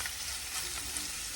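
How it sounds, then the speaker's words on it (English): Sliced onion strips fry in a pan with a constant, soft, even sizzle and crackle, heard up close with no voices. "Onion is frying."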